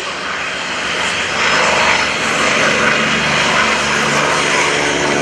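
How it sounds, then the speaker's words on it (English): A Goodyear-built F4U Corsair FG-1 propeller fighter passes at an airshow, its big piston engine a loud, steady droning roar that swells slightly as it goes by, heard alone without talk. "Goodyear built F4U Corsair FT1"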